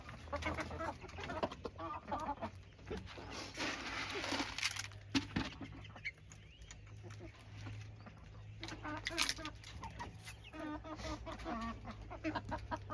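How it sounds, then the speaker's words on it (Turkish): Four-month-old Gerze chickens and roosters clucking nearby in scattered bursts in a village garden, with a person speaking at times and a low steady hum underneath. "Bunlar daha 4 aylık gereze horozlarımız, gereze tavuklarımız"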